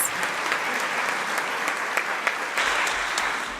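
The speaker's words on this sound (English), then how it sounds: "I think we need another round of applause" Audience applause fills a conference hall during the opening plenary of the Global Landscapes Forum in Nairobi, 2018: steady, dense clapping from a large crowd that continues at an even level throughout.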